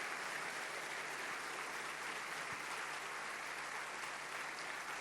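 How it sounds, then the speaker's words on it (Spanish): A church congregation applauds God during a sermon, a distant, even wash of many hands clapping that holds steady and fairly faint throughout. "nosotros le vamos a dar un fuerte aplauso"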